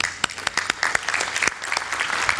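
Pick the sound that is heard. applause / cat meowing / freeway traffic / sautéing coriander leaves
applause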